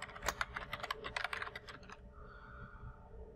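A burst of rapid keystrokes on a computer keyboard while a password is entered, close and crisp clicks for about two seconds, then stopping into quiet room tone.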